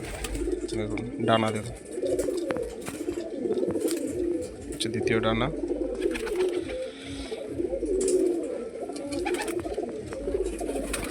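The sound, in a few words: pigeons cooing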